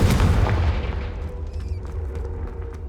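A Confringo blasting spell explodes in the video game Hogwarts Legacy: one heavy, booming blast that hits hard at the start, then rumbles and decays over a few seconds, with faint crackling debris after.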